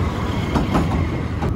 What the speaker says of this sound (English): Southend Council has recently acquired 2 new environmentally friendly battery operated electric trains to run along the pier.